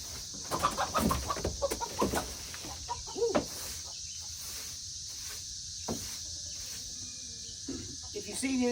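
A few chickens in a small coop with a linoleum floor, giving short clucks and murmurs scattered under someone talking nearby, fairly close and moderate in level.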